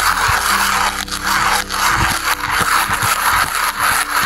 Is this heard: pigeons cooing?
no